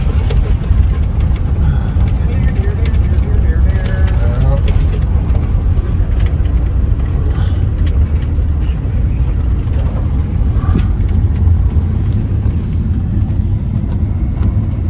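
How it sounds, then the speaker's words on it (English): A van's engine roars steadily as it cruises down an old dirt road, a loud continuous rumble that lasts the whole stretch, with a muffled voice faintly underneath. "BigRobsVan is cruising down the old dirt road with the engine roaring."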